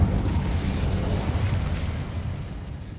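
Incendio fire spell in the Hogwarts Legacy video game, a steady, loud rushing blast of flame that roars continuously for the whole span with a heavy low-end rumble and no break.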